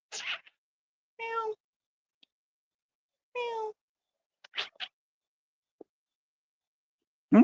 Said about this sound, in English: And it's a cat, I think, or a raccoon or a possum.